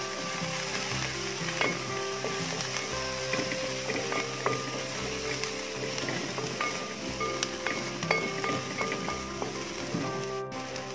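Ginger, garlic and onion fry in a pan with a steady, loud sizzle, with occasional stirring scrapes throughout and no talking.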